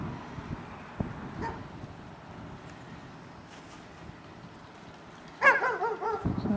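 Dogs bark outdoors on a quiet winter day: one sharp bark early, then quiet, then a burst of yips and whimpering barks near the end, fairly close.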